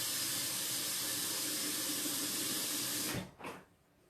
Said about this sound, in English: Just filling up my water pitcher here